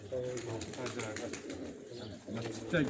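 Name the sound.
racing pigeons cooing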